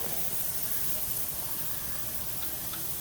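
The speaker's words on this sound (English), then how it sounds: "Nice sizzle" A thick porterhouse steak sizzles on a grill with a steady, close, bright hiss and faint crackles throughout, fairly quiet, with no talking.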